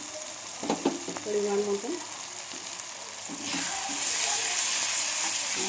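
Garlic, ginger and onion paste hits hot oil in a pan, producing a steady close sizzle that swells louder partway through, with someone speaking briefly over it.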